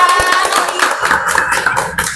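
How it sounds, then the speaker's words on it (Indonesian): A short burst of applause from a small group of high school students at a podcast recording, hands clapping quickly and fairly close, with a few sharp taps at the start. "kita tepuk tangan dulu kalian"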